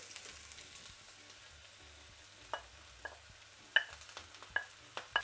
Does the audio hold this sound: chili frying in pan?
yes